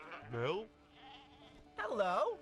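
Two loud, wavering sheep bleats, one early and one near the end, separated by a quieter gap with faint background.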